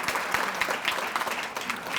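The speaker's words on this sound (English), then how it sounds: "A round of applause for Randy, please." A room of diners at a chamber of commerce anniversary dinner claps, producing an even, crowded patter of many hands that continues throughout at moderate level.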